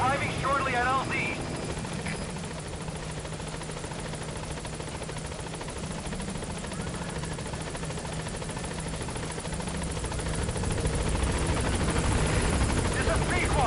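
Helicopter in Metal Gear Solid V: The Phantom Pain approaching a landing zone, a steady rotor and engine drone that holds throughout and swells toward the end, with radio-style voices talking over it.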